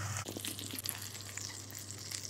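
Risotto rice for a butternut squash risotto simmering in a pan, giving a steady soft bubbling sizzle with faint crackles, close and continuous with no talking.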